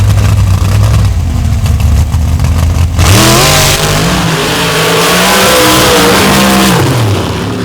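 A big-block, front-engined open-class race car revs hard and loud, its engine note climbing and surging as it accelerates, with no talk over it.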